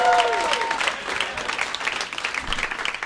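Comedy club audience bursts into loud, sustained applause after a stand-up set, dense clapping with a few whoops rising briefly at the start, continuous for a few seconds.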